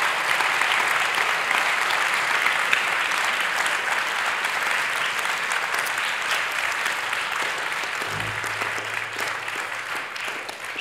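Steady, dense applause from an audience cheering dancers at a dance living-lab evening, sustained and fairly loud for the whole stretch before easing slightly at the end.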